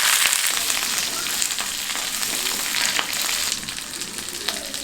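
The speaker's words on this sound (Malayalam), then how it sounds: "അറ്റം പിളരാതെ കട്ട് ചെയ്ത് വെച്ചിരിക്കുന്ന വെണ്ടയ്ക്കയാണിത്. ഇതൊന്ന് വഴറ്റിയെടുക്കാം." Cut okra, trimmed without splitting the ends, sautés in a pan for okra masala: a steady close sizzle of frying with occasional scraping stirs, no voices.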